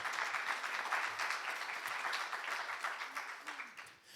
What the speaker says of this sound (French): J'aimerais entendre un applaudissement à ceux qui croient ça